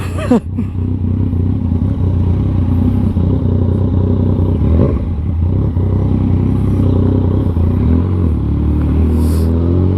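A Yamaha MT-09 motorcycle engine roars steadily and loudly up close while riding, with gear changes through the quickshifter heard as brief interruptions and pops amid the constant rumble and clatter.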